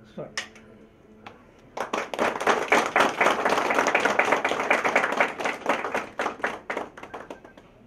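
Applause at a film-launch ceremony for a Telugu movie, a brief clap or two and then a burst of many hands clapping that thins into scattered claps, with voices in the background.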